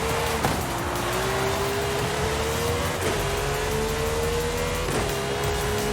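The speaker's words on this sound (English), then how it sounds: "and noticeable kind of gear change noise," Car in Forza Horizon 5 revving through its gears, a continuous close engine drone rising steadily in pitch, broken by sharp gear-change clunks that drop the pitch, about three shifts.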